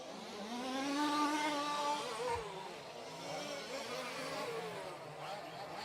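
A large-scale off-road RC car runs a victory lap at a British championship final, its engine whining and rising in pitch as it passes, then fading to a lower drone with crowd ambience.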